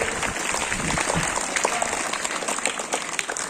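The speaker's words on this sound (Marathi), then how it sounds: "जोरदार टाळ्या झाल्या पाहिजेत" A crowd of people welcomes students on the first day of school at an entrance celebration with a burst of loud, dense clapping that holds steady for a few seconds and then thins slightly.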